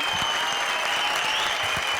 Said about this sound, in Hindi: मोना सिंह के लिए जोरदार तालियां।